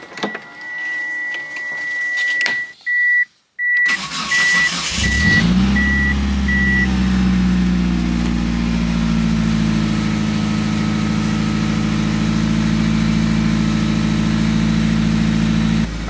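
Mitsubishi Eclipse with freshly fitted brakes: a beep and clicks at first, then the engine catches and settles into a steady, loud idle that holds throughout, with no voices.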